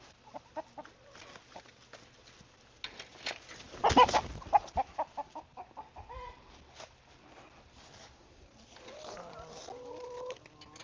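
A rooster wandering loose around a yard outside a house gives scattered, fairly quiet clucks, with a louder burst of calls in the middle and soft murmuring near the end.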